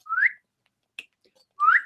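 A person whistling, two short rising notes about a second and a half apart with a faint click between them, close and clear.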